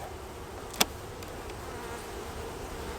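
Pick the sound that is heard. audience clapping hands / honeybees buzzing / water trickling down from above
honeybees buzzing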